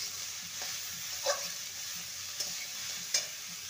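Gourd with turmeric and slit green chilies fries in a pan, a soft steady sizzle punctuated by a few sharp spatula scrapes, fairly quiet and close.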